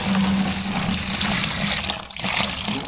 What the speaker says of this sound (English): let me put water in first